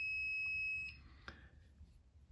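A continuity-test beep from an ohm meter checking a 3-way electrical switch: one steady, piercing tone holds for just under a second, then cuts off, leaving a faint click and low room hum.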